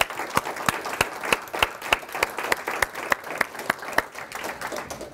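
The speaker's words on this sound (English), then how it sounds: "I want to start off my talk with a big round of applause for the people who take care of us" An audience at a patient and family care talk applauds for the care team, producing a steady bed of crowd clapping with sharp individual claps landing roughly in time over it.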